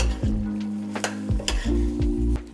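Onion and garlic sizzle steadily in a hot pan while a utensil stirs them, with soft scraping knocks against the pan at irregular intervals.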